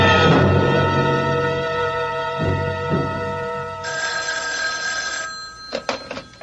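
An old-style telephone bell rings loudly and steadily while a phone call is being placed, then stops, leaving a few short clicks and knocks from handling the receiver.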